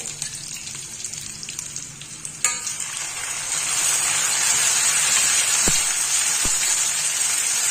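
Onions and tomato fry in a pan for fenugreek curry, a dense sizzle that swells louder midway and then holds steady, with a metallic clink and a couple of brief knocks, and no voices.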